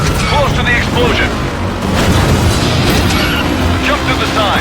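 Explosion from the stunt-driving video game Stuntman: Ignition, a loud sustained rumbling blast with crackling debris that fills the whole stretch, mixed with engine and effects noise and a voice speaking over it.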